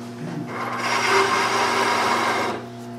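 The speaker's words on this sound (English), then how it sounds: "So I'm gonna take this gouge and just clean it down into the bottom of the valley here" A gouge cuts wood on a lathe while a table leg is turned, giving a steady, close hiss and scrape that rises and holds for about two seconds before easing off, heard alone over a constant motor hum.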